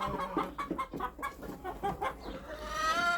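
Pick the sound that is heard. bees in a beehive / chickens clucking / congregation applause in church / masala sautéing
chickens clucking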